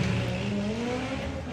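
A front-wheel drive drag racing car at Santa Pod Raceway screams under hard acceleration, a high rising engine note with tyre chatter, heard continuously and fairly loud at a distance.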